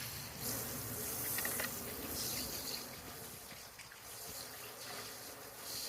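Water sprays and floods across a greenhouse seeding table during a rinse, a continuous soft hiss and gush without talk, fairly faint and steady throughout.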